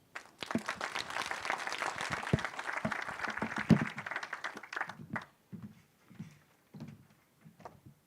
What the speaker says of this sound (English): May I ask for a bigger round of applause?